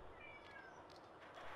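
A house cat meows softly indoors, a faint, brief call set against quiet room background with no talking.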